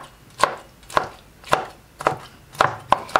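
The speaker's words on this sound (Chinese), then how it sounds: "将木耳切碎，先切成木耳丝" Soaked wood ear mushrooms are cut with a kitchen knife on a board, six crisp, evenly spaced chops at a slow, steady pace, close and clear with no talking.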